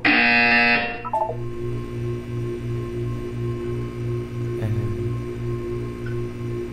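A buzzer in the video game Portal: a loud electronic tone opens the clip and cuts off after a second, then a steady pulsing low hum repeats rhythmically under faint background.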